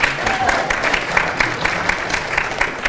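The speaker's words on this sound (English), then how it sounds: "that'll be it for applause for the rest of the event" Audience applause fills a gubernatorial debate hall at Sacred Heart University, steady dense clapping sustained for about three seconds at moderate loudness with a faint murmur underneath.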